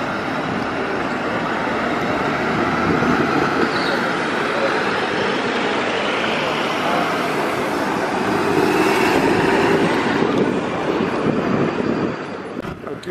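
An electric trolleybus moves through central São Paulo amid loud, continuous street traffic rumble, with gusts of wind buffeting the microphone.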